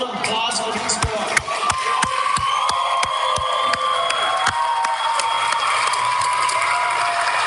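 Audience applause fills the clip, steady and fairly loud, with a few sharper individual claps standing out from the dense clapping.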